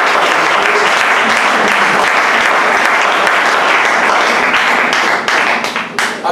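Church congregation applauding during an offering at a preacher's ordination service, a dense, loud, steady wash of clapping that thins out near the end.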